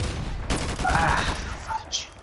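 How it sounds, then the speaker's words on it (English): Grenade blast in a shooter video game, a broad rumbling explosion with rattling debris filling the mix, heard over continuous game noise with a voice briefly reacting near the end. "Oh geez, grenade."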